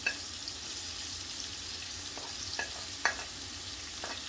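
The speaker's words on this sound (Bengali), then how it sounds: "এই রসুনটা ব্রাউন হয়ে গেছে এখন আমি পেঁয়াজ দিলাম" Onions dropped into a pan over browned garlic fry with a continuous close sizzle, broken by a few sharp clicks and scrapes of a spatula stirring; no one speaks.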